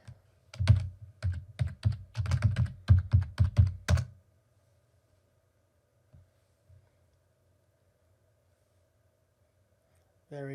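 Rapid clattering keystrokes on a computer keyboard as terminal commands are entered, a close burst of typing lasting a few seconds before falling quiet, with a brief click near the end.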